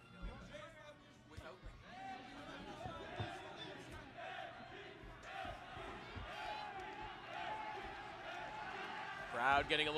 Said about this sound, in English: Crowd getting a little bit more vocal